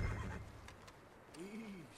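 A horse in Red Dead Redemption 2 lets out a short whinny with a rising and falling pitch near the end, following a low rumble and soft background ambience.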